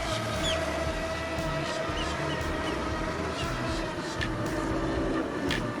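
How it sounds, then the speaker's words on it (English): A small RC boat motor whines steadily and fairly loud across the whole stretch, with water noise and faint voices talking in the background. "Just a couple of grown men playing with the RC boat."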